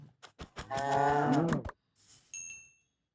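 A single drawn-out cow moo in Minecraft Pocket Edition after a few short knocks, followed by a brief high chime.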